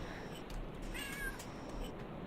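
A soft, high cat meow in the game Cat Island Relax Timer rises once over a steady background hiss, with some faint chatter and electronic ambience.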